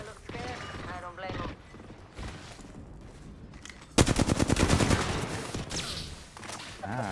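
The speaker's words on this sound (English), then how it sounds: "They're running, I'm shooting them right here." Automatic weapon fire in the battle royale game Apex Legends during a pro league match, a loud rapid burst of shots that sits under a commentator's excited talk.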